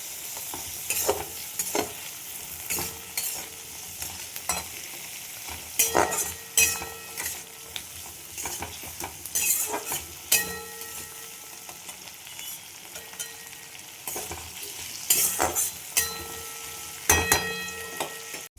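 Chopped garlic and tomato frying in a pan for chow mein, a steady sizzle broken by rhythmic scraping strokes of a spatula stirring close by, with no talking.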